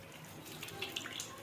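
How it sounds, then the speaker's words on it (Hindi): Tap water runs faintly and steadily into a sink as a boy washes his face at home, a soft continuous splashing with slight surges near the end. "ये देखो मुंह धो रहा है"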